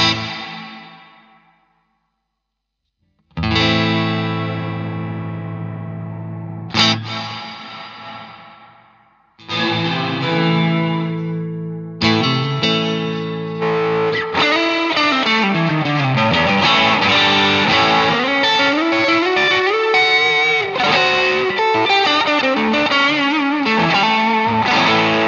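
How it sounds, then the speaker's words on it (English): Electric guitar notes and chords played alone through an IK Multimedia X-Space reverb pedal's spring reverb, each ringing out into a splashy, springy reverb that keeps the sound washing and sustaining throughout. "So, not really the best spring reverb, but still pretty good."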